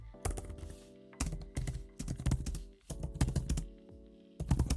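Rapid clattering keystrokes on a computer keyboard come in quick bursts separated by short pauses, close and crisp over a faint steady hum.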